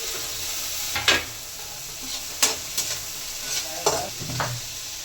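Chillies, onion and tomato being fried and stirred in a pan for Maggi noodles, with a steady soft sizzle broken by several louder scraping stirs of the spoon, close by and with no talk.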